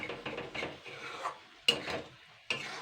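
A spatula stirs a thick, reduced okra and egg curry in a pan, giving a steady close scraping and rubbing texture in short repeated strokes, with two sharper clacks of metal against the pan near the end.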